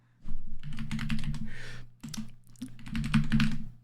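Fingers type fast on a computer keyboard in a rapid, close clatter of key taps. A short pause falls midway before the typing resumes.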